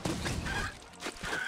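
A few quick, clipped clucks from chickens in a Roblox video game, in short bursts close up, with no talking.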